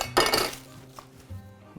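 Carrots and onions get mixed in a cooking dish for boeuf bourguignon, a quick clatter of utensil against the pot at first, then softer scraping and a few light knocks, close by.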